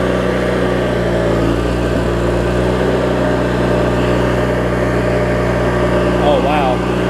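A Craftsman riding mower powered by a Briggs & Stratton opposed twin engine runs steadily at a constant, close, loud drone with an even hum throughout, and no change in pace.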